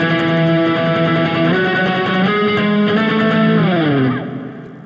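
Fast, distorted electric guitar notes played with rapid alternate picking in a high run, ending in a bending slide down that fades out.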